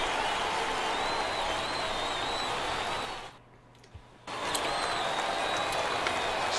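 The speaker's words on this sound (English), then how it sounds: "Look at the crowd reaction, guys." Steady roar of a baseball crowd cheering in MLB The Show 18, a broad continuous wash that cuts out for about a second midway, then resumes at full level.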